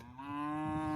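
Cattle moo while being moved across on a farm with calves lagging behind; one long, loud, close moo rises slightly in pitch and holds steady with no talk over it.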